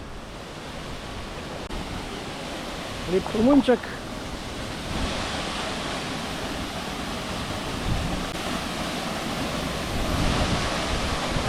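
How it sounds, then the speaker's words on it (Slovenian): The Salto do Cabrito double waterfall in the Azores gives a steady, broad roar of falling water that fills the scene, with a brief spoken remark partway through. "Evo, dvojni slap."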